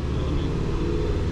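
A Subaru GR/VA STI engine runs on a dyno with a loud, steady low rumble that holds even throughout the short stretch, with no talk over it.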